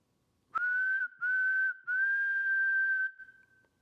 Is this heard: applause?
no